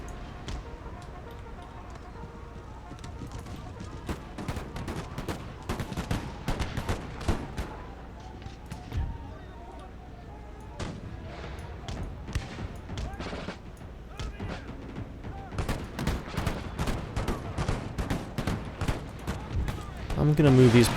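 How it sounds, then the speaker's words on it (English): Cannonball artillery fire on a battlefield in Empire: Total War: many sharp booms and thuds at irregular intervals, some near and some distant, with a voice talking over them. "They are taking some straight cannonballs there."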